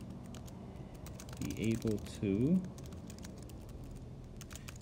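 Keys clatter on a Bluetooth keyboard in quick, light clicks, with a brief denser burst of typing, all heard close up under a person talking.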